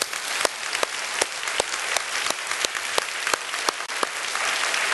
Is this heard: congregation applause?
yes